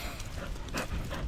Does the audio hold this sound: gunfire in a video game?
no